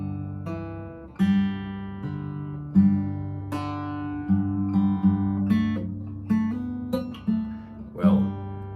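Slow Piedmont blues fingerpicking on acoustic guitar for the intro of "Will the Circle Be Unbroken": a steady alternating bass under plucked treble notes, close and clear, with no talking.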